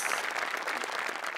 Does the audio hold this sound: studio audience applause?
yes